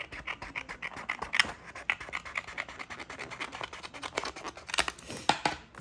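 Scissors snip and scrape through material while a B6 Slim planner cover in taupe is unboxed, a steady run of close, crisp cuts mixed with rustling and crinkling, with no talk.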